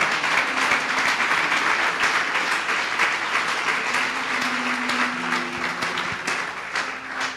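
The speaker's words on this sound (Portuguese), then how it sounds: "Dê uma salva de palmas ao Senhor" A church congregation bursts into loud, dense applause, many hands clapping steadily and close for several seconds.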